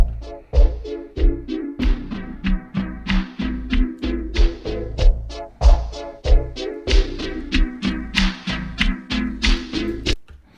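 Rhythmic music with punchy, pulsing beats run through a phaser and low-pass filter, sounding muffled and swirling, its tone sweeping, playing steadily without any voices.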